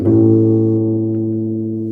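A freshly built guitar effects pedal kit passes a sustained guitar chord through it, loud and steady, slowly fading over about two seconds with no voices.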